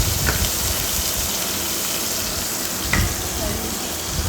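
Crushed garlic frying in a hot pan of oil for papu gongura, a steady close sizzle with a couple of brief stirring clicks rising above the crackle.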